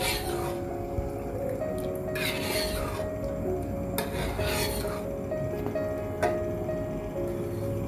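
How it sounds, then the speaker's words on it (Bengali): Boiled mung dal with fish head, for muri ghonto, being stirred in a pot: a continuous scraping, rubbing sound from the spoon against the pot, punctuated by a few light metallic clinks. "এখন এগুলোকে আমি একটু ভালোভাবে নেড়েচেড়ে"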